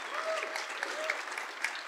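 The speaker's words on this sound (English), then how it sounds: "can we please have a round of applause for everybody here or not who has worked on the documentation" Audience applause at a Vue.js developer conference, an even spread of many people clapping for two seconds, somewhat distant, with a few voices faintly mixed in.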